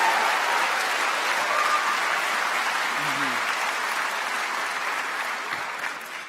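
Sustained applause from a large audience at a medical school White Coat Ceremony for an incoming class, steady and full for the whole stretch, fading slightly toward the end.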